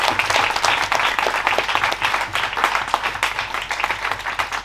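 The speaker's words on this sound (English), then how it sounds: "can we just get a round of applause for our panelists?" A panel audience gives sustained, dense applause for the panelists, steady clapping from many hands that fills the room, with no one speaking over it.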